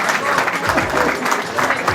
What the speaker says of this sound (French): Chers amis, on les applaudit très fort.